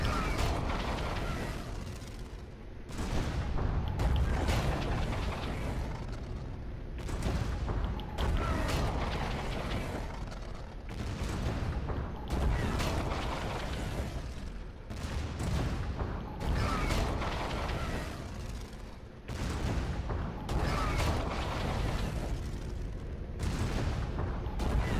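Missile launches and explosions in an Infinite Warfare custom match, a loud run of blasts and rumbling impacts repeating in bursts, with mechanical clatter between them.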